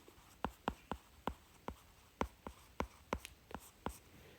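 Chalk taps and strokes on a classroom board during a Hindi literature history lecture, a dozen sharp, evenly spaced clicks and short scrapes, close and fairly quiet, with no talking.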